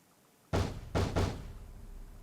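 Three heavy pounding blows on an apartment door, one and then two in quick succession, loud and close with a low thudding body, set against a steady background hum.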